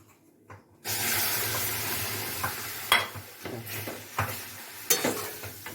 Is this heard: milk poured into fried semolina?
yes